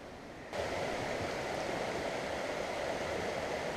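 Creek water rushing steadily beside a hiking trail on the John Muir Trail, a continuous close broadband wash that swells in loudness after the first half second and holds without speech.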